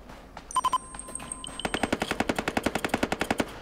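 A gun in the video game Ring of Elysium fires a few quick shots and then a long, close, rapid burst of about twenty evenly spaced rounds.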